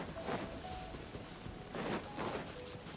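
Rain falls in the Genshin Impact game world, a soft, steady patter with a few gusting swells, faint and without talk.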